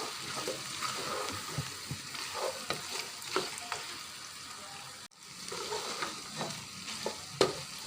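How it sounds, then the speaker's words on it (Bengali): Cooked beef being stirred and fried in a pan for Bengali kala bhuna, a steady close sizzle with scraping spoon strokes throughout, broken by a brief pause midway, no talking. "এভাবে নেড়ে চেড়ে একদম ভাজা ভাজা করে"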